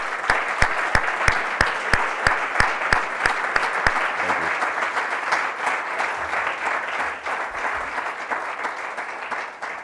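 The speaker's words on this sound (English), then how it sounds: "I'd like to ask the audience for a big applause to the University of Montenegro." A large audience at a university alliance kick-off event in Podgorica, Montenegro, breaks into loud sustained applause, with a rhythmic unison clap at first giving way to dense, continuous clapping that slowly eases.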